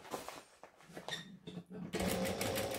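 A sewing machine stitches and backstitches a fabric pouch, quiet uneven bursts of whirring that end in a steadier, louder run of stitching.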